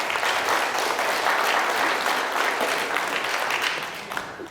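An audience at a lecture on the May 18 democratic movement breaks into loud, dense applause that holds steady and then tapers off near the end.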